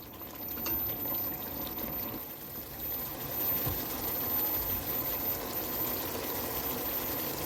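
Water poured into a pot of fried chicken in a Hyderabadi-style home kitchen, a continuous close splashing and bubbling rush that runs steadily throughout, with no talk.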